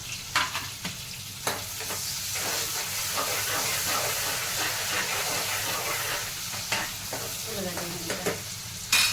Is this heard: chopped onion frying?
yes